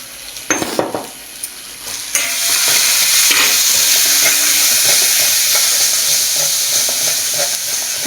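Spices for a tomato bhetki curry, with chilli powder and turmeric, sizzle loudly in a hot pan, broken by scraping stirs and a few utensil knocks. The frying grows steadily as the mixture is worked, and no one speaks.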